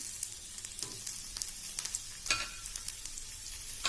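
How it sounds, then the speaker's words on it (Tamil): Whole small shallots fry in hot oil for an okra tamarind curry, giving a continuous crackling sizzle with scattered sharper pops, close and fairly quiet. "எண்ணெய் ஹீட் ஆனதுக்கப்புறம் சின்ன வெங்காயம் முழுசு முழுசாக எடுத்து வச்சுருக்குறோமா அதை எடுத்து இதில் போட்டுருங்க"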